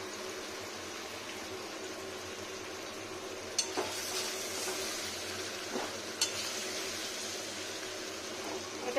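Raw papaya pieces tipped into hot oil for a vegetarian papaya and potato curry, giving a steady low sizzle with a few sharp pan clinks as they are poured and stirred.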